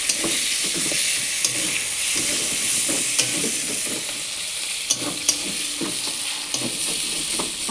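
Spices with turmeric powder sautéing in a pan, a continuous loud sizzle with repeated stirring scrapes and clinks, no voices.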